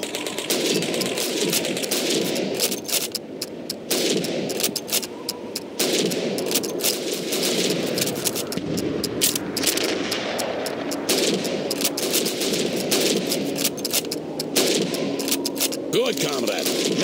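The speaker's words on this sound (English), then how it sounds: "You have 15 seconds to shoot the helmets." Rifle fire in the Call of Duty 2 Soviet Red Army training range, with rapid shots cracking one after another at helmet targets, continuous and fairly loud over ambient battle noise.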